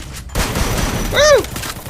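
Gunfire in the battle royale game Free Fire, a loud burst of rapid shots opening a short stretch of rumbling noise, followed by a brief rising and falling whistle-like tone.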